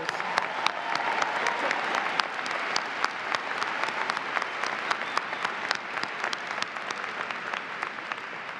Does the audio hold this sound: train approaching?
no